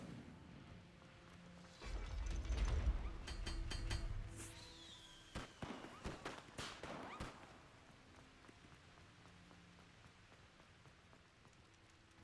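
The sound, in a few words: Incendio fire spell in Hogwarts Legacy video game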